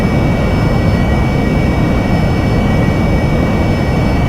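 An AV-8B Harrier jump jet in DCS World holds a steady, loud jet engine roar with a faint whine, an unbroken drone running the whole time with no voices.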